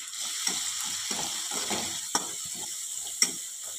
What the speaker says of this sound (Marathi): आपल्याला ही फोडणी 1 मिनिटभर अशी परतून घ्यायची आहे